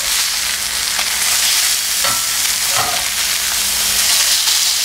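Grouper fillets pan-fry in hot oil with a loud, dense, continuous sizzle and a few soft scrapes, close up and without any talk.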